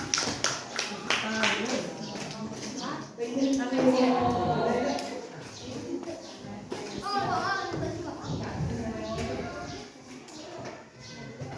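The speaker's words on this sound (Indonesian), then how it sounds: "tepuk tangan buat kelompok 4" Classroom applause for a student group after their presentation on computer networks, a scattered patter of clapping mixed with voices and chatter, moderately loud throughout.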